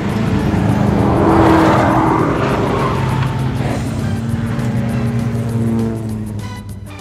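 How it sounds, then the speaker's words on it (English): A sports car drives loudly and continuously, engine roaring with tires squealing and skidding close by throughout. "Sports car."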